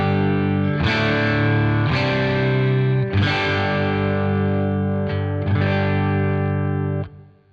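Electric guitar through a Fender Bassman valve amp with every control on 10, around 70 watts: five loud, heavily overdriven chords struck one after another, each ringing out before being abruptly cut off at the end.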